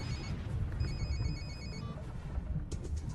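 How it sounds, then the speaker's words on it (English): A telephone rings in steady repeated electronic trills, moderately faint over a low rumbling background, with no one speaking. "Pick up the phone."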